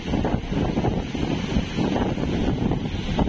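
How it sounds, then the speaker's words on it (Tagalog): Powerful super typhoon gusts blast along the Dinahican coast in Infanta, Quezon, a loud, unbroken roar of wind battering the microphone, with surging peaks and no speech. "Ang hangin dito mga kabising, lalaki na."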